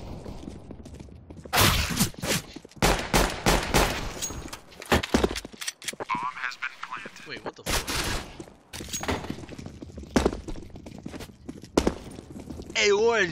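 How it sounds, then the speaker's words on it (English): Desert Eagle pistol shots in a video game, loud sharp cracks fired in quick bursts with scattered hits, mixed with footsteps and other game noise while people talk. "I hit him twice with the deagle."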